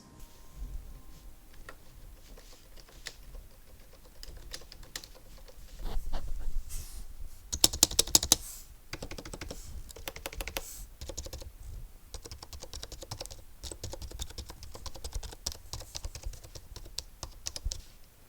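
Steady typing on a clacky, cheap typewriter-style Bluetooth keyboard, with rapid keystrokes running throughout and a few louder, heavier space bar strikes standing out midway, no voices.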